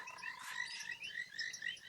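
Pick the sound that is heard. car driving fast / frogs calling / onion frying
frogs calling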